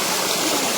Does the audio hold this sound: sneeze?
no